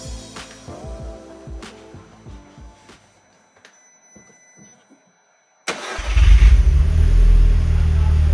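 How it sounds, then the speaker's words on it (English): Audi TTS cranked with a jump pack in boost mode: a few seconds of clicking and rhythmic starter churn, a short pause, then the engine bursts into life and settles into a loud, steady idle close by. "the car should fire up straight away"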